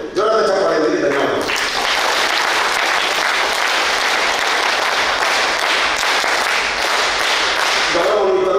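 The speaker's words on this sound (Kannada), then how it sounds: "ಎಲ್ಲರಿಗೂ ಜೋರಾದ ಚಪ್ಪಾಳೆಯಲ್ಲಿ ಧನ್ಯವಾದ." Loud, sustained applause from a large audience at a Dharmasthala de-addiction camp gathering in Nitte, a dense continuous roar of clapping lasting about seven seconds, with a voice speaking briefly before it starts and again as it fades.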